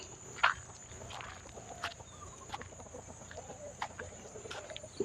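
Free-ranging chickens at a rural Thai temple beside rice paddies cluck softly and sporadically at close range, with occasional footsteps and light shuffling in a quiet outdoor setting.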